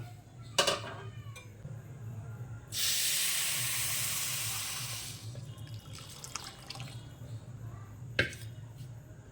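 Milk poured into fried semolina in a hot pan, a sudden loud hiss that rises sharply, then fades over a few seconds amid light clinks and low background noise.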